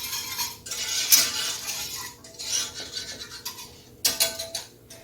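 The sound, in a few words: stirring eggnog spices in a bowl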